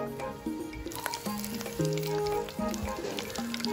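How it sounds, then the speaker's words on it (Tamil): Ulundu vadai, crispy urad dal fritters, deep fry in oil over a medium flame with a close bubbling sizzle, mixed with clanks and sliding tonal scrapes of a utensil against the pan. "அடுப்பை மிதமான சூட்டில் விட்டு பொரிச்செடுத்து கொள்ளணும்."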